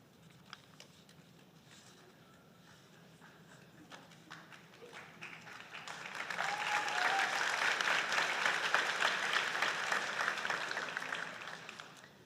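An audience at a medical school graduation pledge ceremony applauds graduates, the clapping starting quiet and swelling around six seconds into a sustained, loud round before easing slightly at the end.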